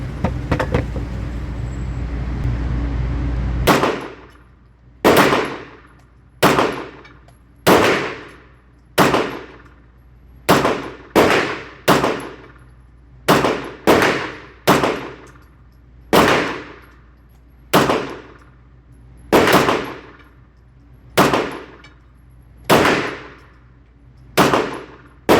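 Bul Armory SAS2 Tac Govt 9mm pistol fired one-handed with the left hand, a full magazine of about fifteen sharp, loud reports at an uneven pace, each ringing briefly, after a few seconds of low rumbling background.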